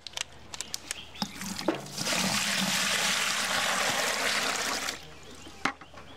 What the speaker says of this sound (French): On le met ici dans le seau et on met de l'eau.